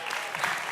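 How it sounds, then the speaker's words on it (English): Brief, soft applause from a church congregation during a service, heard for under a second as a dense, distant patter. "And now you can clap for that"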